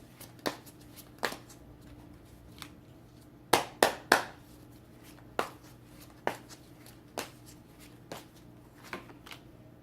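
Tarot cards are shuffled by hand in sharp, crisp bursts, with a quick cluster of snaps in the middle and scattered single riffles before and after, close and fairly quiet.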